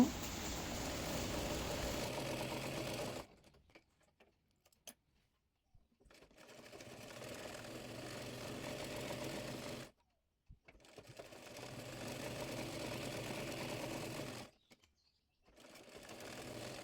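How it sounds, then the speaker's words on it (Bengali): A sewing machine stitches the fabric of an umbrella-style frock in sustained close runs, stopping twice with short quiet gaps before starting again, each burst a steady motor whir. "পাপড়ি পাটের সঙ্গে নিচের অংশের এর কাপড়টি সেলাই করে নেব"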